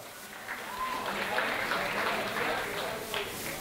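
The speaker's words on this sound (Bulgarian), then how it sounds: "Дами и господа, още веднъж аплодисменти за Рут Колева" A stage audience claps steadily for a performer at a party event. The applause is dense, moderately loud and continuous, with some voices mixed in.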